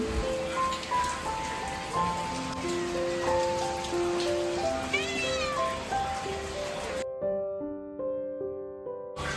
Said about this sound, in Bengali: বৃষ্টি দেখছো